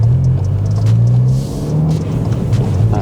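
Ford Focus ST MK4 with a Scorpion GPF-back exhaust pulls away in normal driving mode, a steady deep exhaust rumble that stays loud and close throughout.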